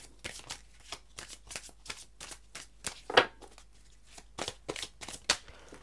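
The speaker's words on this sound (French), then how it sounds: "je remélange" Tarot cards being shuffled by hand, a rapid run of crisp riffling bursts in an irregular rhythm, close and fairly quiet, with no talking.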